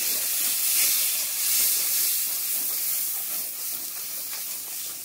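Mixed winter vegetables fry with turmeric and chili powder stirred in, making a continuous bright, hissing sizzle that holds steady and close.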